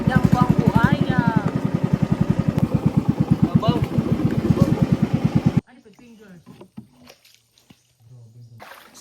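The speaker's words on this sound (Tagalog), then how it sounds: "hanggang dito na lang yung sinakyan naming motor sa ilog kasi hindi na kaya sumungsong hanggang doon" A motorcycle on a rough forest track near a river putters with a fast, even chug while a voice talks over it, then cuts off abruptly to near silence.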